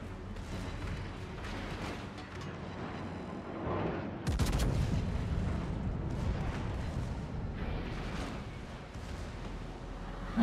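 Ship main guns fire in a naval combat video game, heavy booming salvos with one big close blast mid-way, rumbling explosions and scattered gunfire layered throughout, loud with no talk.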